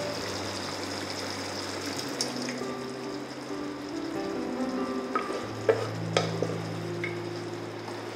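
Dal is stirred into cooked drumsticks (murungakkai) in a pan for Chettinad patchadi, a soft continuous sizzle and wet stirring with a few light utensil taps near the end, fairly quiet and steady.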